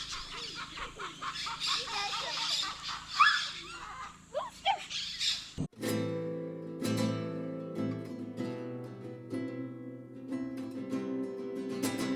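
Chickens clucking and a rooster-like call ring out amid busy chirping birds near a swimming pool at an Amazon hostel, followed by a sharp shift to a denser layered chorus of calls, close and lively with no talking.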